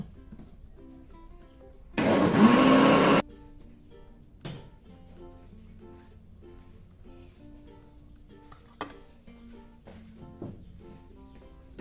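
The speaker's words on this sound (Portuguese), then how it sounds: "Aí agora eu vou bater esses ingredientes líquidos por uns 2 minutinhos mesmo" A kitchen blender whirs loudly for about a second, mixing the liquid ingredients for a blender panettone, then stops, leaving faint clatter and quiet kitchen background.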